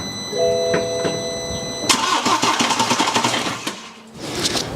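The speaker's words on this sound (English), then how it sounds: "Replacement starter motor now in place. I've connected the battery back up. Let's get inside, try and crank this over." A car engine with a freshly fitted replacement starter motor cranks over rapidly in a fast rhythmic churn after a chime and click, close and loud, then stops without catching.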